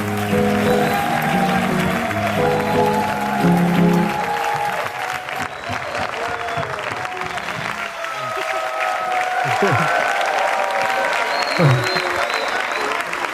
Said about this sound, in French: Applaudissements encore pour la belle Imani pour tout ce qu'elle a fait aujourd'hui.